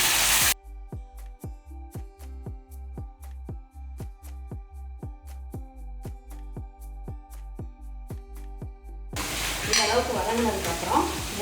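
Onions sizzle loudly in a pan for chicken gravy, briefly at the start and again near the end. A steady, rhythmic electronic beat fills the long middle stretch between them.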